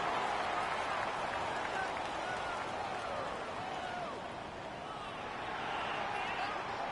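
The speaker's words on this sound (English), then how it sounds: "several thousand 12th men and women cheering as the Seahawks win at home" Thousands of Seahawks fans cheer a home win in the Madden football video game, a dense, continuous stadium roar that stays steady throughout.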